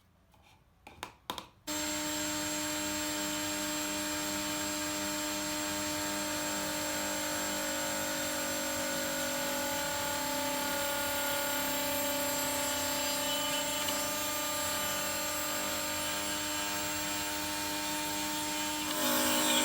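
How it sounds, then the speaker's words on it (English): Router on a homemade router table cutting a wood circle to final size with a jig, dust collection running: after a few brief knocks, a loud steady motor whine with vacuum-like roar continues without pause, no talk. "I made a very simple jig to route the circle shape to the final size"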